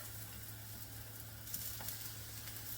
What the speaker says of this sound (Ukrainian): І обжарюємо з усіх бочків.